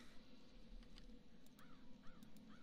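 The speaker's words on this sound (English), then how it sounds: "Crow is humming." A crow caws several times in the video game Dreamfall, faint, short rising calls over a steady low ambient hum, with no talk.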